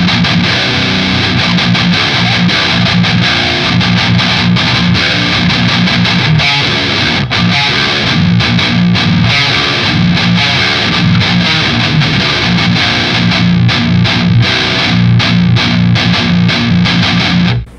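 Electric guitar through a Revv G4 distortion pedal set to blue mode plays continuously, a loud, thick, saturated tone with sustained chords and riffs throughout.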